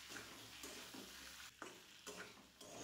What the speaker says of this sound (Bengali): এরপর গাটি কচুগুলোকে মশলার সাথে খুব ভালোভাবে কষিয়ে নিতে হবে 3 থেকে 4 মিনিট